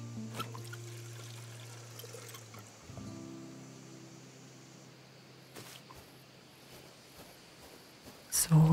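Watering plants with a watering can in the cozy simulator game Garden Life, a light trickle and pour of water set against steady game music tones, with a louder splash near the end.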